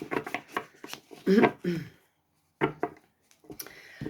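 A deck of tarot cards is shuffled by hand in short riffling and sliding bursts, close and crisp, with brief pauses between bursts.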